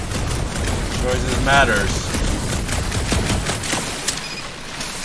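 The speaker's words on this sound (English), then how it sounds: "Shooting your way out of every problem again, Peter?" Rapid bursts of gunfire from the video game Marvel's Guardians of the Galaxy fill several seconds, loud and dense, with a character's voice speaking over the shots.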